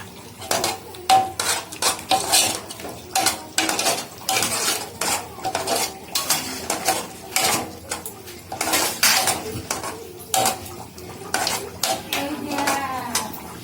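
Metal spoon clinking and scraping against a bowl while ghee is stirred into baby khichuri, a steady series of close, bright taps and scrapes repeating through the whole stretch with no talk.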